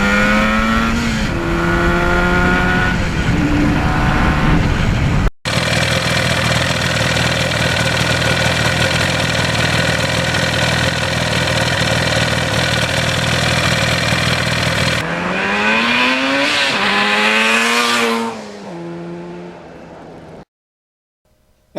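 A 1977 Yamaha RD400 two-stroke motorcycle engine runs close by, revving up and down in rising and falling sweeps, holding a long buzzing steady stretch, then winding down and cutting off near the end.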